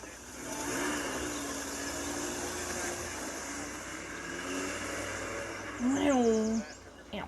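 An animated car's engine starts and the car pulls away, a steady mid-pitched engine drone with rising tonal whines as it drives off, fairly close, with a voice-like sound mixed in.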